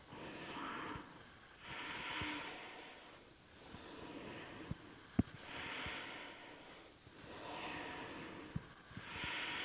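Slow, audible breaths during an upper-body yoga stretch, long inhales and exhales trading off in a steady rhythm, close and fairly soft, with a few faint clicks between them.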